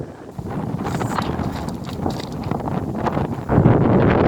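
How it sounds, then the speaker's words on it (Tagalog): Strong wind buffets the microphone with a loud, rumbling roar that swells and gusts harder toward the end. "Hangin na siya"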